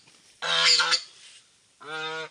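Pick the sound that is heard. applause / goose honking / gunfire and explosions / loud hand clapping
goose honking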